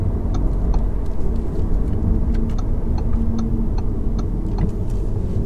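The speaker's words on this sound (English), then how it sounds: "Just to give you guys a bit of a feel for what the acceleration is like in drive mode" A 2018 Audi S3 sedan accelerates in its standard drive mode at moderate throttle, heard from inside as a steady engine and road drone with light tyre noise and faint ticking, no voices.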